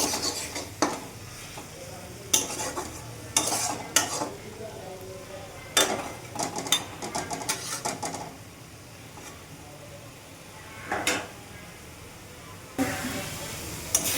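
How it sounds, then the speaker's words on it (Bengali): A wooden or metal spoon scrapes and stirs spice paste (masala) frying in a pan for pabda fish curry, giving repeated uneven scraping strokes over a low, steady sizzle, fairly close. "এবার একটু মশলাটা নাড়া দিয়ে দিচ্ছি, যাতে পুরা না লেগে যায়।"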